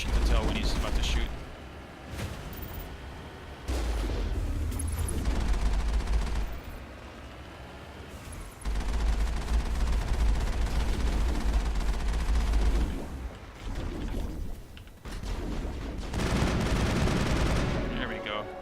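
Enemy gunfire in the sci-fi game Mass Effect comes in several loud bursts of rapid shots, separated by short pauses, over steady battle and mechanical background noise.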